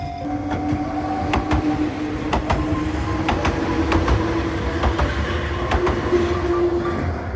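A train rolls past a railway crossing in Kamakura, a steady close rumble of wheels on track with repeated rhythmic clicks from the rail joints and faint squeals.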